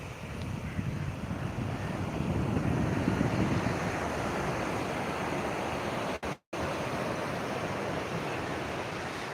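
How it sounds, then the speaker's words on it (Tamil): Continuous roar of surf washing ashore, broad and rushing, with wind buffeting the microphone and a brief dropout near the end. "அலையின் தாக்கம் சற்று அதிகம்"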